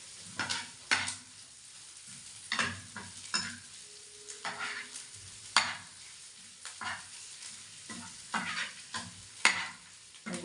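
Mung beans and sardines being sautéed in a pan, with repeated stirring scrapes and a steady oily sizzle running underneath, close and moderately loud, the stirring coming in irregular bursts throughout.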